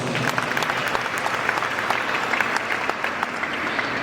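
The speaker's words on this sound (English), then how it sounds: "Please give a big round of applause." Sustained applause from a graduation audience at a dental college ceremony, a loud even wash of many hands clapping continuously throughout.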